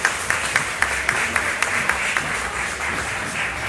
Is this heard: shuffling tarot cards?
no